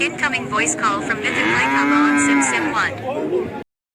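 Cattle at the Sharatnagar cattle market give one long, loud, drawn-out moo, heard close and alone, which stops abruptly at the end.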